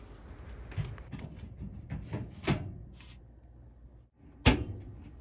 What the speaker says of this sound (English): Just slip the door on with the bait on it